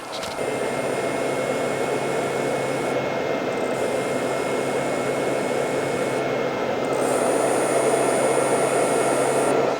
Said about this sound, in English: I can hear the heater mechanism cut off for a few seconds and then it heats back up